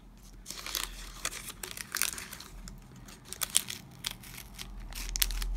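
Parchment paper handled and crinkled at a craft table during cross stitch and diamond painting work, giving irregular dry crackles and rustles, close and moderately quiet, with no talk.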